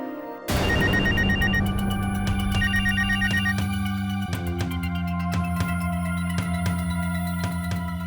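A telephone bell rings loudly and repeatedly in a home during a thunderstorm power cut, its steady electronic trill sounding alone with no voices.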